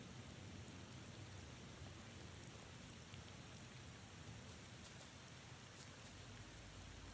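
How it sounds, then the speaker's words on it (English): Steady rain falls in the video game The Thaumaturge, a faint, even hiss of drops and surface patter continuing throughout without a break or any speech. "Oh, rain. Rain sounds good."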